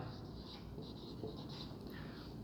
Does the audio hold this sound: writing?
yes